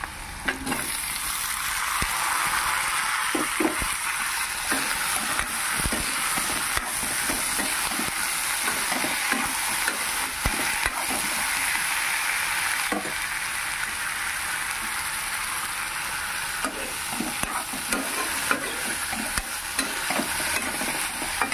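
Brinjal sizzling in hot oil with ginger-garlic paste, stirred with a utensil that scrapes the pan in frequent irregular strokes, a steady close frying hiss running throughout with no talk.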